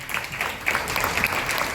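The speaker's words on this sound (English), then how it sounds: "Let's have a bigger round of applause for that," Audience clapping at a ceremony honoring a fire brigade force, a dense, sustained round of applause from a crowd with scattered sharper claps standing out, moderately loud and without speech.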